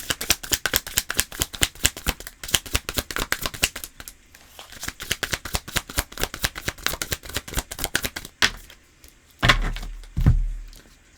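Tarot cards are shuffled by hand in rapid crisp riffling bursts that keep up a steady fluttering rhythm for several seconds, then give way to a few soft thumps and knocks as the deck is handled. Nobody speaks.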